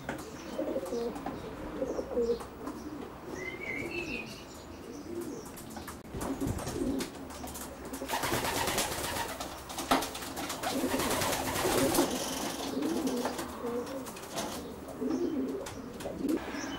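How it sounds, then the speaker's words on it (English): Nineteen racing pigeon cocks inside a widowhood loft section coo in overlapping low, throaty rolls, with occasional wing flutters and shuffling, close and continuous throughout. "This is a scene inside one of Keith's widowed sections. And this section contains 19 cocks"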